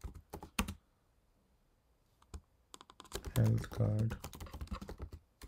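Clicky computer keyboard typing while entering ad text: scattered keystrokes at first, a pause, then a rapid run of taps, with a person speaking briefly over the later keystrokes.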